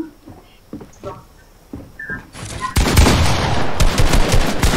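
Loud, rapid gunfire from the Fortnite video game bursts in after a few quieter moments, then continues as dense, continuous shooting close up, with a few scattered earlier noises.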